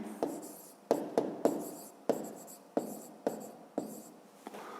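Pen strokes on paper during a fifth-grade math exercise, a series of sharp scratchy marks with short pauses between them, close and quiet with no talking.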